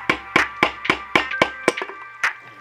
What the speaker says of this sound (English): I'm going to hit the bottom of the piston with this piece of wood here